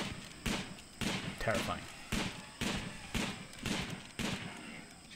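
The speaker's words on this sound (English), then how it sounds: "They're walking in front of her shooting like that." Repeated gunfire in the video game RimWorld, sharp broadband reports arriving about every 0.9 seconds in a steady rhythm, fairly loud, with someone talking over the shots.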